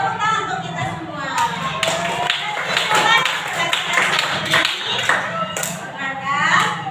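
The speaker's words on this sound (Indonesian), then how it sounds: "Tepuk tangan untuk kita semua." A group of people, likely a class, claps hands together in a brisk, fairly close round of rhythmic claps lasting several seconds, with voices mixed in throughout.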